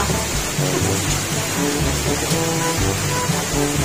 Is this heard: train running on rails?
no